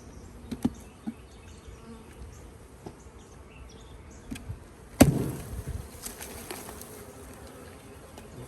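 Faint, steady buzzing of honey bees hums in the background, with scattered knocks and a louder thump midway, as bees are knocked off during hive work.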